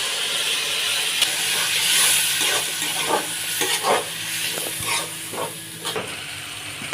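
Potatoes and spice-paste water hit a hot pan, setting off a loud, steady hiss and sizzle broken by a few bubbling pops and faint stirring knocks.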